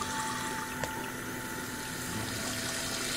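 Water runs steadily from a faucet in the video game Amaranthine Voyage 3, a soft continuous hiss and trickle with one small click near the start.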